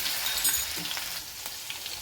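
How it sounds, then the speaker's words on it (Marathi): Coarsely crushed garlic fries in hot tempering oil with cumin for a leafy vegetable dish, producing a close, continuous sizzle with light crackles and occasional stirring taps. "हे लसूण टाकून घ्यायचं फोडणी सगळं छान असं लागू घ्यायचं"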